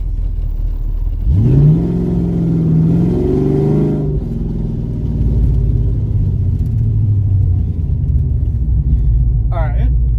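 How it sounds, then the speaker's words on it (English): Car pulling away from a dead stop, the engine note sweeping up sharply, briefly dropping, then climbing again before settling into a steady rumble; loud and close with no talk. "It built RPM, it kind of lost a little, then it built some more."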